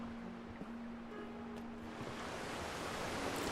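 Steady rushing water fills an outdoor area beside a building in the video game Eastshade, a continuous broadband wash like surf, with a faint tonal hum underneath and no voices.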